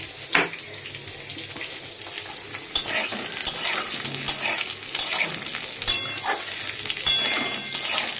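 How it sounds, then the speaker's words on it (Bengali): Stem vegetables and potatoes fry with black cumin in a pan, sizzling steadily as a spatula scrapes and stirs in repeated sharp strokes. Close and clear, with no speech. "ডাটা আর আলুটা ছেড়েছি এই যে এটা একটু ভেজে নিচ্ছি আর একটুখানি একটুখানি টমেটো দেবো"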